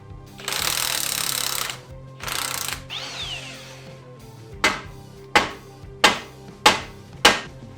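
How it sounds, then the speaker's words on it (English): An air hammer working on the rear hub of a Volvo XC90, loud sustained rattling bursts at first, then a pause and a series of five sharp separate metallic hits spaced about a second apart. "Air hammer safety, wear your ear protection."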